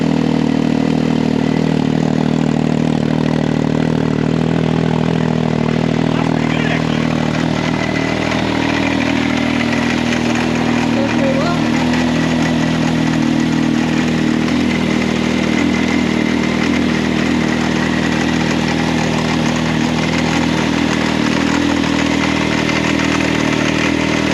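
A rebuilt Can-Am Maverick X3 Turbo UTV engine idles steadily with a silencer fitted, a muffled, droning rumble, constant in level throughout.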